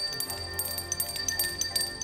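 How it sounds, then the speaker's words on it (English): A dinner bell made from a cheap Mexican stemmed wine goblet whose stem broke off, struck to give bright glassy rings that sound in a few quick, light strikes, close and clear. "this was a cheap Mexican goblet wine glass with a stem, and the stem broke off in a party"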